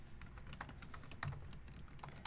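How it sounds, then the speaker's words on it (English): A password is typed on a computer keyboard in a rapid, uneven run of soft close keystrokes, faint overall with a couple of heavier presses. "Type in my password."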